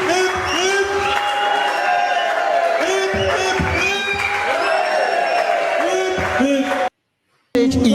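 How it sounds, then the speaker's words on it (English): A crowd at a school gathering cheers and shouts loudly, with whoops and children's voices over scattered clapping. The noise is continuous for about seven seconds, then cuts briefly to silence and resumes. "Round of applause. Hip, hip, hip."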